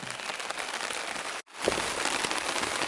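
Rain pattering on a tarp at a backcountry campsite: a dense, steady hiss that drops out for a moment, then resumes just as strongly.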